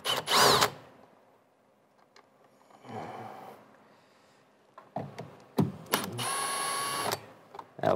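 Short bursts of a handheld power driver backing out small Phillips screws from the headliner of a Jeep XJ Cherokee interior, a few separate whirring runs with quiet gaps, close by, no talk.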